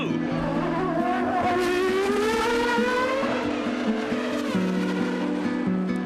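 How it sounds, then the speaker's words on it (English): Formula 1 cars from the 1994 Monaco Grand Prix scream past in a high, sustained engine wail, pitch rising and shifting as they battle for position, loud and continuous with a faint commentary voice beneath. "This is Martin Brundle challenging Gerhard Berger for second place in the Monaco Grand Prix"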